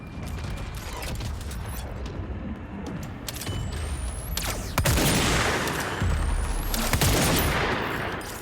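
Sniper rifle fire in the video game Control, with sharp gunshot bursts around the five- and seven-second marks over a steady background of game ambience and mechanical noise.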